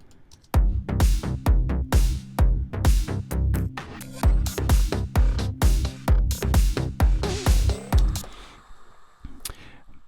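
Music track run through glitchy audio effect plugins, a choppy sequence of loud stuttering bursts and chords in an irregular rhythm, breaking into smeared tails near the end.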